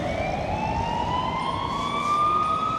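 An ambulance siren wails on a Barcelona street at midnight, its rising and falling tone loud and close over a low background rumble of traffic.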